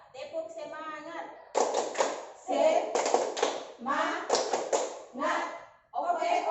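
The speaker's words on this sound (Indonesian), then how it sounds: "1, 2, 3. Tepuk semangat." A group performs rhythmic hand claps in a 'tepuk semangat' spirit-clap routine during a business-training session. Sharp, fast clap bursts come close and loud, several in quick succession, mixed with voices chanting along.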